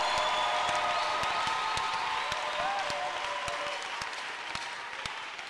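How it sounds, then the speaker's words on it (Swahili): A church congregation applauds during a sermon, making a dense, sustained wash of clapping. It fades slightly toward the end, with faint voices mixed in. "Acclamez-moi, c'est Jésus."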